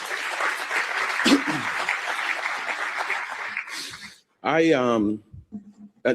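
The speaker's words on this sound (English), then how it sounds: "Give yourself a round of applause" Morning audience at a Pancakes and Politics breakfast forum claps in a steady, fairly full round of applause that tapers off, followed by someone speaking clearly into a microphone.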